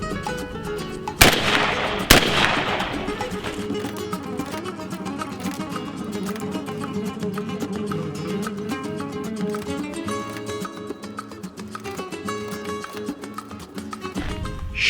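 A shotgun is fired with a Fiocchi Exacta hull reloaded for the fourth time and getting dirty: two sharp, loud blasts close together near the start, followed by a long, noisy outdoor wash of sound.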